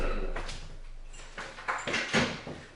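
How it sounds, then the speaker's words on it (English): An indoor door is pushed shut, with a short scrape and a couple of dull knocks and thuds near the end, close by and fairly quiet. "let me close this door"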